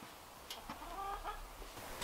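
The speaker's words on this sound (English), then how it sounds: "The chickens are mad that I didn't give them mealworms." Backyard chickens cluck in a few short, faint calls at close-to-mid range over low background noise.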